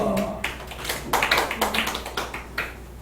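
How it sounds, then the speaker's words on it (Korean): Congregation in a church clapping together in a loose, uneven rhythm, a run of sharp palm claps of moderate loudness over about three seconds. "박수 한답니다."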